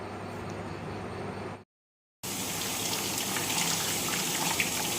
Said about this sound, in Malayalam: നന്നായി കഴുകിയെടുക്കാം